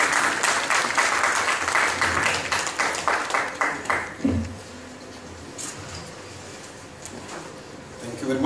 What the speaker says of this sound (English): Ladies and gentlemen, a huge round of applause for Dr. Rajeev Varshney.